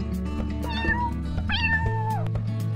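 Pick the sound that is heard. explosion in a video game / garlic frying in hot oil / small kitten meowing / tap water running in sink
small kitten meowing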